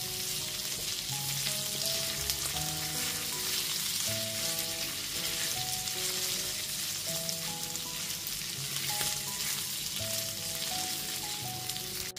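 Onion, capsicum and green chillies fry in a pan for chilli chicken, giving a continuous soft crackling sizzle for several seconds with faint music playing underneath.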